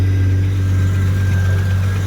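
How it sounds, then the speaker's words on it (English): Jeep Grand Cherokee engine running with a steady, loud low drone and a constant hum at close range, a rough idle with no clear cranking or revving, no talk. "So you can see that it has difficulty starting."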